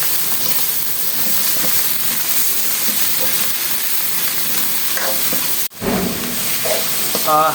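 Spices hissing and sizzling in hot oil in a pot while beef is being cooked, a loud, steady fry with stirring scrapes and a brief dip near the end.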